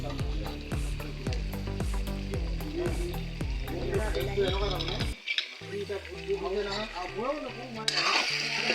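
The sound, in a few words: chopped tomatoes sizzling in hot oil for chicken curry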